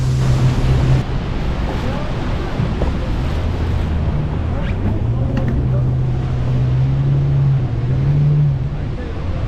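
The roar of Iguazu Falls, a loud continuous broadband rush of falling water buffeted by wind noise, with people talking over it.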